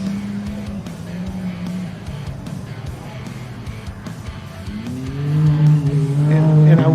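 Off-road race cars at the King of the Hammers desert race charging into a turn, engines rising to a loud close roar and revving near the end, with a commentator talking over them.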